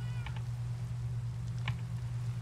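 A house cat meows twice in short, fairly faint bursts over a steady low electrical hum, with no talking.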